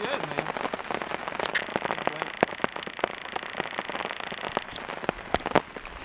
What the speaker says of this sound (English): And the rain started coming down. Just a light tinkle.